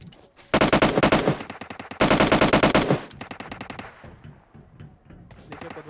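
Rapid automatic gunfire in the PUBG battle royale game, loud sustained bursts of machine-gun shots with short pauses, then sparser single and double shots trailing off.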